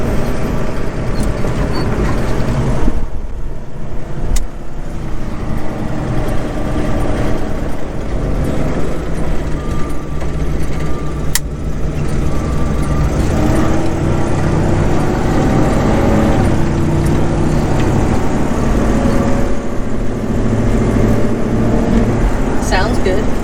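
Supercharged 1964 Studebaker Daytona with a 700R automatic, its engine running with a steady low rumble throughout while people talk close by.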